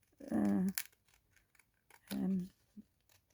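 Scissors snip around the edge of paper in a Valentine's craft make, two short close cutting bursts separated by a pause, with faint handling noise between.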